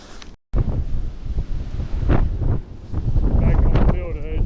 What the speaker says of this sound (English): Back on the field edge, the wind's insane.